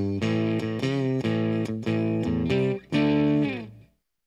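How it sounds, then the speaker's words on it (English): Electric guitar through an amp's clean channel with no effects and a little reverb, playing a short run of ringing chords and notes that sustain and fade out at the end. "This is the sound of the amp on its clean channel."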